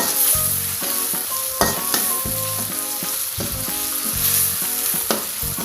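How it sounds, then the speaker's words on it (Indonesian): Spice paste for pecak-style catfish stirred and fried in a pan, with steady loud sizzling and repeated scraping stirs of the spoon, close up. "Terus diaduk-aduk sampai matang dan sampai kering, sampai wangi"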